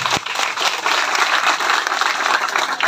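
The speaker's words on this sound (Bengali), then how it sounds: "জোরে একটা হাততালি হয়ে যাক।" Crowd applause at a political rally for a Mathurapur Lok Sabha candidate: dense, steady clapping held at an even level for about three seconds.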